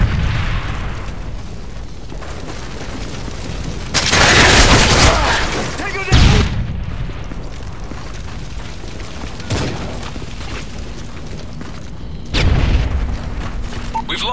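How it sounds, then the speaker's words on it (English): Stun grenade detonating during a Call of Duty Modern Warfare 3 multiplayer match, loud broadband booms around four, six and twelve seconds amid continuous gunfire and game chatter. "Throwing a stun grenade!"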